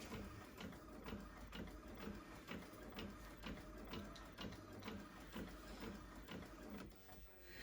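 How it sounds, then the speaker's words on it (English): A printer churning steadily while feeding 220–300gsm cardstock, with rhythmic mechanical clicks and a whirring feed motor, close and continuous throughout. "that's coming out the printer now."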